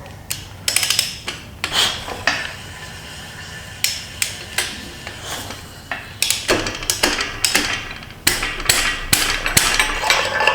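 On a neglected Chevy C10 truck, a power tool tightens a bolt in bursts of sharp, rapid rattling hits, loud and close, with metallic clanks and handling noises between them.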